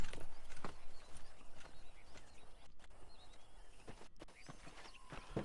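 Horse hooves clop at a walking pace in Red Dead Redemption gameplay, moderately loud beneath ambient game noise, with a few mechanical creaks and no speech.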